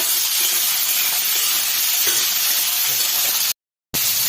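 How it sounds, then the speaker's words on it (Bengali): Potato and ridge gourd fry in a pan with a loud, steady sizzle that fills the whole stretch, broken by a short silent gap near the end. "আলুটাকে একটু ভাজা ভাজা করে নেব"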